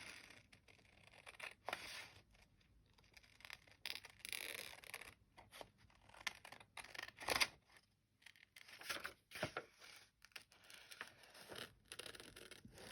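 Scissors cutting paper scraps for a craft journal make faint, close snips and rustles of paper in irregular bursts, with brief quiet gaps between cuts.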